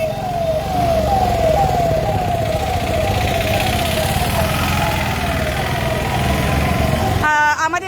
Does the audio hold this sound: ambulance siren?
yes